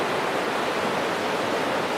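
The McKenzie River in central Oregon rushes steadily, a dense unbroken broadband wash of flowing water filling the space, loud and close with no pauses or other sounds.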